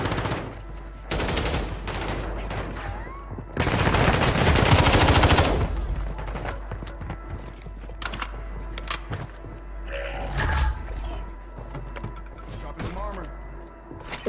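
Rapid automatic gunfire in the video game Call of Duty: Warzone, loud dense bursts and a sustained volley mixed with game effects, with a player talking throughout.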